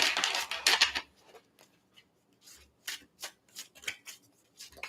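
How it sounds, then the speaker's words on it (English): Tarot deck being shuffled by hand, a dense riffling burst of card edges up close, then a quieter pause followed by several short separate flicks and snaps of cards. "Just trying to get a little shuffle."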